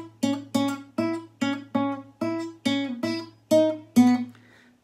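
An acoustic guitar plucks a variation of a well-known riff, about ten evenly spaced single notes in a steady syncopated rhythm, close and clear with no voices.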